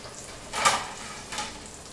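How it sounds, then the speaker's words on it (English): Brinjal burger patties frying in hot oil, a steady soft sizzle with two brief louder bursts of crackle. "Same way you repeat and you fry the others too"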